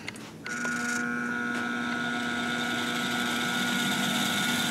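A balancing machine spins up a 454 big block rotating assembly with its crankshaft, giving a steady loud mechanical whine and hum that holds level with a few tonal ringing lines, with no talking.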